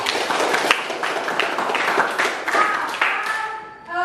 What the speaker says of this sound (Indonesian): Ya, tepuk tangan untuk Afni.